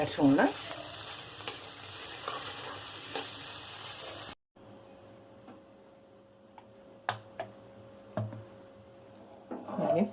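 Cooked rice being mixed into a tomato tempering in a pan, faint scraping and stirring with occasional light knocks, close but quiet, a low steady hum beneath.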